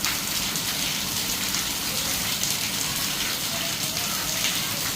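Steady rain falls without pause, a dense even hiss that holds the same level throughout.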